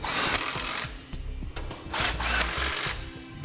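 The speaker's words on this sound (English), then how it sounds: "in order to tighten up the bolts for our sway bar, we'll just need an 11/16 socket" Power tool driving a socket to tighten the sway bar bolts on a 2006 Hummer H3, heard in several close, loud bursts of whirring with brief pauses between them and no talk.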